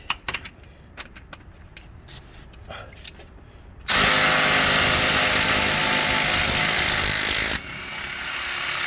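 An impact wrench set to high loosening bolts during a PowerStroke repair, with a few clanks and handling noises before a loud, continuous hammering whir of about four seconds, then a sharp drop to a lower, steadier sound.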